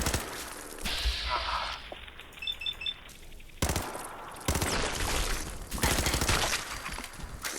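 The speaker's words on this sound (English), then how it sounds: "Let's finish them off with a pistol." Pistol shots and impacts in the video game Fallout 4 crack out in repeated sharp bursts amid combat effects and shattering, fairly loud throughout with no speech.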